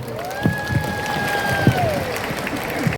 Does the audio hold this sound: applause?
yes